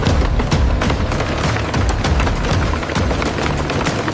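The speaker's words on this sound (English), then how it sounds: "Shredding." Used pizza boxes pass through an industrial shredder in a recycling factory that makes toilet paper, a loud continuous crunching and rattling roar with rapid irregular thuds throughout, no voices over it.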